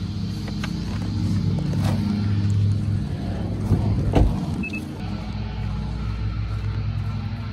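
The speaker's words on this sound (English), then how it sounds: "so I will be driving 7 miles back" Car interior while driving a long stretch on the road, steady engine and road rumble throughout with a brief louder thump midway, no talking.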